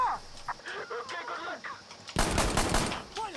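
Rapid bursts of gunfire in the video game Insurgency: Sandstorm, a loud burst of repeated shots in the second half after quieter game sounds and faint voice chatter.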